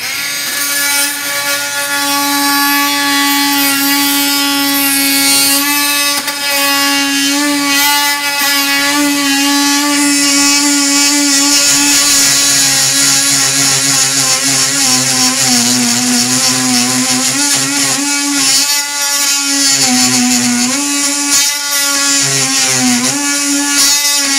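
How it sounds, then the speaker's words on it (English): A power tool whines loud and steady for a long stretch while cutting into wood and through a bolt beneath an Airstream trailer frame, its pitch wavering and dipping as the blade bites and strains, with no talk. "I'm cutting in beneath the frame into the wood and then cutting through the bolt."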